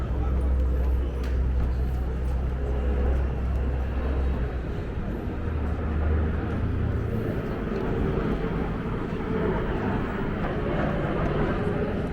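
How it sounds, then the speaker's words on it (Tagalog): Airplanes passing overhead in the UK, heard as a steady, broad low roar filling the background throughout, with no distinct approach or fade. "Daming aeroplano ditong dumadaan ah."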